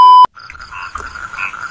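A frog croaking close by in a burst of raspy, rattling calls, preceded by a short, sharp electronic beep that cuts off abruptly.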